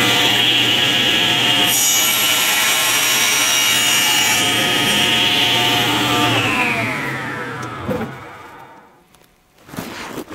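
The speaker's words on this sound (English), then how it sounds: "let's trim the end of the setup jig" A table saw trims the end of a wooden setup jig on a segmenting sled, loud close cutting with a harsh buzzing rasp that runs for several seconds and then winds down into quiet.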